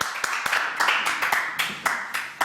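A studio audience applauds a guest on a French talk show, a steady mid-level patter of many hands with a few sharper claps standing out, with a voice mixed in.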